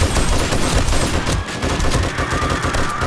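Sustained automatic machine gun fire in 7 Days to Die Darkness Falls during a zombie horde, loud, dense and unbroken, close up with no talk.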